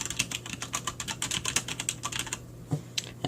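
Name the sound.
keys pressed on programmable gaming keyboard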